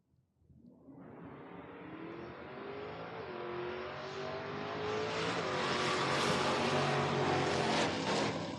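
Ford Mustang drag racing car launching down a drag strip, engine roaring and climbing steadily in pitch and loudness as it accelerates away, sustained and powerful with no voices over it.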